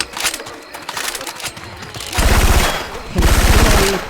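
Loud bursts of automatic fire using Syphon Filter weapon sounds in Left 4 Dead 2: quick crackling shots early on, then two long, dense sustained bursts that dominate the clip.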